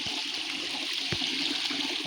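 Stream water in the Konkan countryside runs over rocks, a steady broadband rush and gurgle with no break, fairly close and alone, with a few brief splashy accents.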